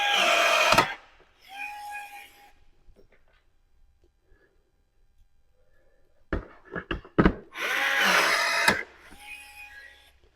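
Rivet tool setting butterfly rivets to fix quad exhaust tips on an A35, heard as a few sharp clicks and short loud bursts separated by quiet gaps.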